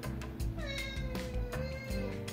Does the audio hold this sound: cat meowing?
yes